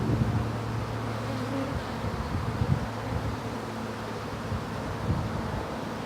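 Close, continuous droning of a bee swarm bunched on vines, a steady low buzz with small flickers of individual wingbeats, no talking.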